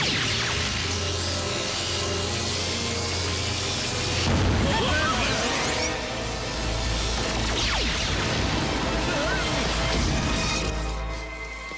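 A loud, sustained rumbling roar with crackling bursts and sweeping whooshes, a cartoon explosion from Transformers: Rescue Bots dubbed in Hindi, swelling and fading over several seconds.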